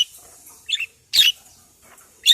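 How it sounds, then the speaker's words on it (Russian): Wild birds chirp outdoors in short, bright bursts with pauses between them, one louder call cutting in near the middle, in a quiet open-air setting with no talking. "Здесь тоже птички поют."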